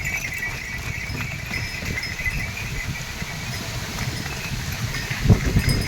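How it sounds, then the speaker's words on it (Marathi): A herd of cattle and other farm animals walks past during unseasonal rain, with steady hoof clopping and shuffling under a constant outdoor hiss and a brief knock near the end. "ते बघा गाई ढोरं चाललेली आहे."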